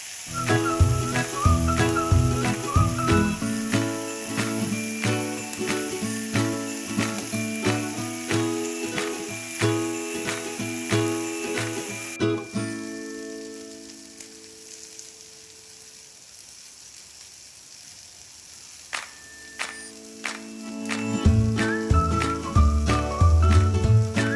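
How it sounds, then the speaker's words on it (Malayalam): Sliced onions fry in a pan while a ladle stirs them, a loud continuous sizzle with scraping ticks and clinks over background music that drops away briefly midway. "സവാള അടുക്കി പിടിക്കാതെ ഒന്ന് ഇളക്കി കൊടുക്കാം."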